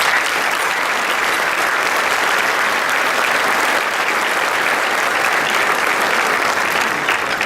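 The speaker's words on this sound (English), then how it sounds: "Let's show our appreciation with a round of applause." Sustained, dense applause from a large audience thanking sponsors at a business awards and hall of fame ceremony, steady and loud throughout with no talk over it.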